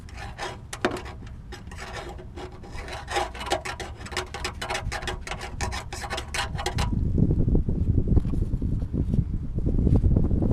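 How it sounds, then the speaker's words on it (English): Rasping, rubbing scrapes give way to a rising rumble of wind buffeting the microphone, low and gusty, growing stronger toward the end. "Kind of windy out today."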